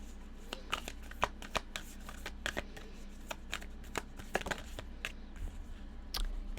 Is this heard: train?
no